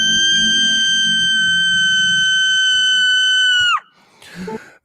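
An NPC lets out a piercing, sustained high-pitched shriek lasting nearly four seconds, flat and eerie, then cuts off abruptly into a short burst of rustling noise.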